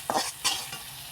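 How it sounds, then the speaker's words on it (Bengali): Spice masala is sautéed in oil for a red country-chicken curry. A soft sizzle runs under two or three quick, close scraping stirs of a spoon through the paste, with no talking. "তো চলো মশলাটা একটু আমি কষিয়ে নিচ্ছি"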